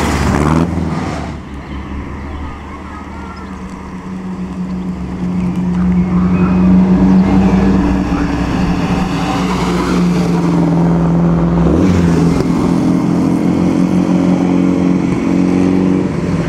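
A vintage BMW car in the Mille Miglia road race drives past with a loud, steady engine drone. The engine pitch rises and then settles, and the sound stays close for the whole stretch.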